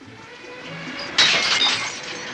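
Drinking glasses shatter in one sudden, bright crash with a short trail of tinkling fragments, loud and close, with no voices.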